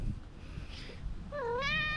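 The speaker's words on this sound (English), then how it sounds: "And oh, there's Panther Cat" A house cat gives a single rising, drawn-out meow near the end, close and clear over faint background noise, in a home in an area hit by hurricane flooding.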